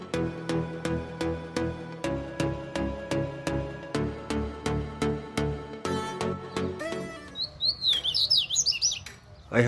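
A caged male songbird separated from the female so it will sing, delivering a bright, rapid run of ringing repeated notes up close, then shifting into quicker warbling chirps.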